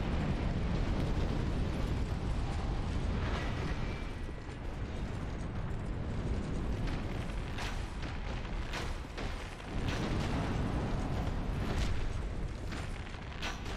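An enemy's shoulder pieces exploding during a fight in Dark Souls II, a dense, sustained roaring boom with crackling bursts that stays loud and unbroken throughout, with no talking over it.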